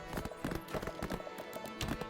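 Horse hooves clip-clop steadily in Black Desert Online as a loaded mount auto-runs, a quick, even rhythm of close, moderately loud hoofbeats with no talk.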